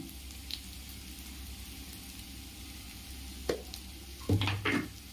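Spices and ginger-garlic paste frying in a pan with a steady soft sizzle. A few sharp scraping stirs of a spoon break through toward the end.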